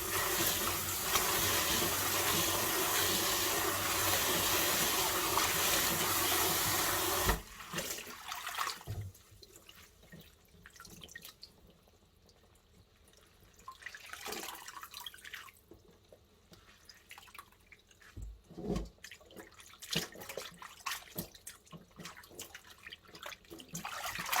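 Wild mustard greens rinsed in cold water, opening with a loud steady rush of running water for several seconds, then quieter splashing, dripping and handling sounds of wet leaves.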